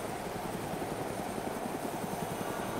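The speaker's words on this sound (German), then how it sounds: "Dieser scheiß Hubschrauber, Junge!" Steady helicopter rotor thudding from DayZ, a fast, even chop over a continuous engine roar, loud and close throughout with no voices.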